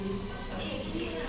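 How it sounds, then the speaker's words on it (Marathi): Puris fry in a little oil on a tawa, giving a soft, continuous sizzle close by for a brief moment. "थोडंसं तेल टाकलं ताव्यात, बस ताव्यात 2-4 पुड्या तळून घ्यायचा"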